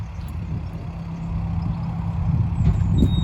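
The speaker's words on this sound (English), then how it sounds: "Starting the engine." A diesel engine aboard a canal boat is cranked and started. It rumbles low and steadily, and the running note swells slightly louder toward the end.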